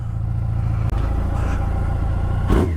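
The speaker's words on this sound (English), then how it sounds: "Check out my new exhaust." A Yamaha FJR 1300 motorcycle with a new aftermarket exhaust idles close by with a deep, steady rumble, followed by a brief throttle blip near the end.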